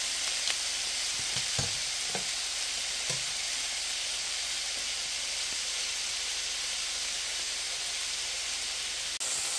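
Grouper fillets sear in a hot pan with a steady, even sizzle and hiss throughout, close and constant, with a few soft clicks of a utensil and a sharp tap near the end.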